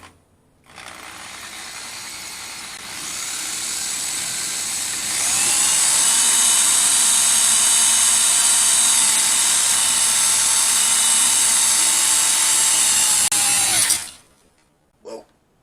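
An electric drill boring into a workpiece, close and loud, spinning up in stages to a sustained whine that stops abruptly near the end, followed by a brief knock.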